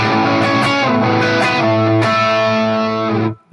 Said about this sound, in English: this sounds pretty good with a little bit of distortion